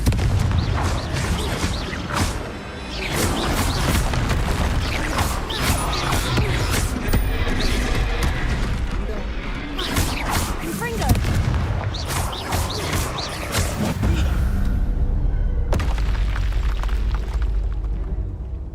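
Booming magical blasts from the Confringo explosion spell in Hogwarts Legacy gameplay, several loud bursts rolling over a dense, busy battle soundscape, with a player speaking over it.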